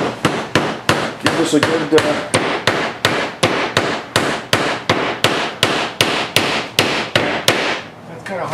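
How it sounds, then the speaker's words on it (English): A hammer drives nails through boards into small wooden supports for a room under construction. Steady, close, loud blows repeat about twice per second, roughly twenty strikes in a row, with someone briefly talking between them. "nailing that to the little supports up there for the little baseball room"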